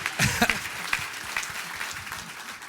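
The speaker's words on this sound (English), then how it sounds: "Let's give her a round of applause" An audience at a themed entertainment industry summit claps in a burst of applause that starts sharp and thins into scattered claps, with a voice faintly underneath.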